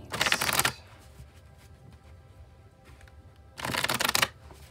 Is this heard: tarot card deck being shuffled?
yes